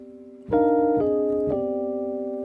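A sustained keyboard chord built with major and minor seconds enters, then shifts twice as notes change, each step adding a sharper clash of close intervals; clean tones, no talking.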